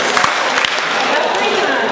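A lunch audience at an awards event claps together on request, forming a dense burst of crowd applause that fills the moment without any talk.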